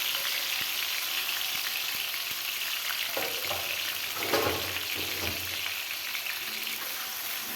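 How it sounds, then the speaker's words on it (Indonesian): Spice paste sautéing in a little oil in a pan for a purple eggplant dish, a steady broadband sizzle throughout with soft stirring scrapes in the middle. "Ini bumbunya ditumis sampai harum dan warnanya agak kecoklatan."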